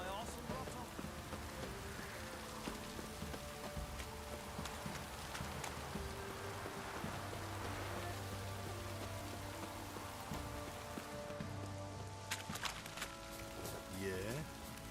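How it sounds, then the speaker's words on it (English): Steady rain falls in The Witcher 3 as a soft, constant patter, with horse hooves clip-clopping alongside at low volume and a voice speaking now and then. "It's raining"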